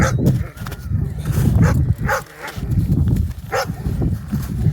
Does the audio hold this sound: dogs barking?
yes